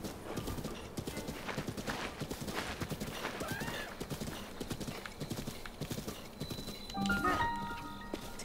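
Hoofbeats of a horse clip-clopping in The Legend of Zelda: Breath of the Wild, a steady quick rhythm under game music and effects, with a brief whinny and louder effects near the end.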